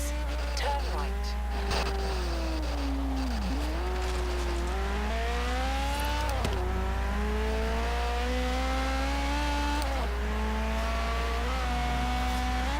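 A Ferrari F40, European version, revving in a driving video game: the engine note climbs and drops repeatedly through gear changes, loud and close, with a constant low drone underneath and no talk over it.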